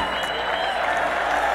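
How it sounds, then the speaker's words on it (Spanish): Audience clapping after a norteño music performance, a short steady stretch of applause with a sustained tone and crowd murmur underneath. "¡Qué bonitos aplausos!"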